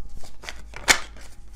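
Tarot cards are shuffled in a few quick riffling bursts, close and crisp, with one sharper snap near the middle of a short, isolated burst.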